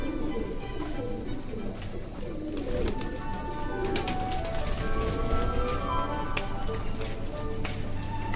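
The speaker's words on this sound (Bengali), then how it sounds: "এই যা কবুতর দেখালাম" Foreign-breed pigeons coo at a pigeon farm, overlapping soft throaty calls mixed with wing flutters and scattered clatter, fairly close and steady throughout with no clear talk.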